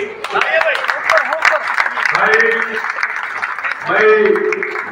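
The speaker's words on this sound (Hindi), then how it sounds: "एक बार आपकी तालियों की" Audience clapping at a ceremony honouring an official, applause rising and falling beneath loud, clear speech and cheering voices.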